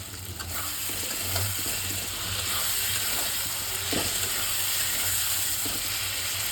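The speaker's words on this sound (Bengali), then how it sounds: "এর সঙ্গে লাল লাল করে ভেজে নিচ্ছি মশলাটা" Spice masala fries in a pan, a continuous close sizzle broken by occasional scraping stirs, with no voices.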